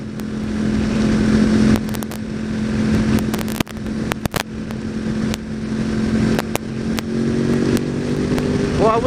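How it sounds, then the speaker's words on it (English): A 2014 Yamaha R1 sport motorcycle engine drones steadily and loudly with wind buffeting, its pitch creeping higher as it accelerates. "the acceleration on this motorcycle"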